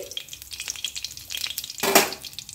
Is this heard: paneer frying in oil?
yes